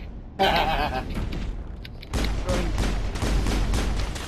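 Gunfire in the Mass Effect video game, several bursts of shots and impacts, loud and close, with a brief lull in the middle before the firing resumes.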